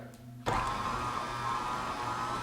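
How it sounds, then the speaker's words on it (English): A kitchen blender whirs into action on cauliflower mash, starting suddenly after a brief quiet moment and holding a steady, close, droning motor whine throughout. "blender going and blend it up"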